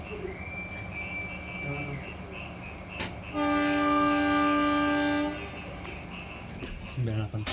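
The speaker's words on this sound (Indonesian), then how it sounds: "Kereta api Kauripan diberangkatkan kembali dari stasiun Leles." The Kauripan passenger train departs Leles station, its horn blaring a long steady toot over rumbling rail noise and a distant chime, with people talking nearby throughout.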